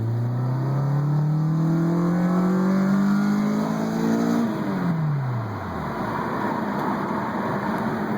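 A stock 2002 Acura RSX Type-S on lowered springs revs hard through a gear with a rising engine tone, then the pitch drops sharply at a shift before pulling again, loud and close from inside the car.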